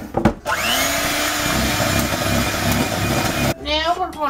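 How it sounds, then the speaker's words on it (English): An electric mixer whirs through cake batter with a strong, steady motor drone. Brief knocks sound at the start, and a short break near the end is followed by a shifting whine. "mix it with the mixer"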